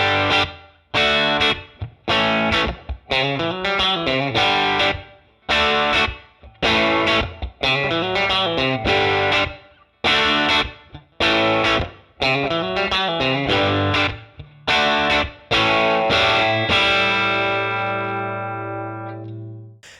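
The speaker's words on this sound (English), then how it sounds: "Here's our clean sound, and here's the Kinky boost." Telecaster through a Helix Fender 5C3 Tweed amp model with a Kinky boost pedal, played as loud, distorted chords and riffs in choppy rhythmic bursts that end on a long ringing chord.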